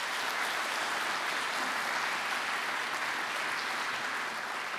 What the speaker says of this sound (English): I'd like to ask you to give him a round of applause